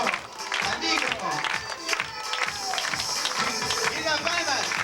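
An audience clapping along to lively music at a Peruvian dance gathering, with steady rhythmic hand claps mixed with crowd noise and a voice shouting over the music.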